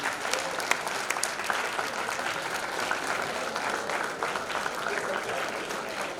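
An audience at a literature festival session on literary adaptations bursts into sustained applause, dense and even clapping from many hands filling the room throughout.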